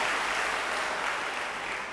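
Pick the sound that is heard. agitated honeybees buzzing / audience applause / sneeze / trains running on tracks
audience applause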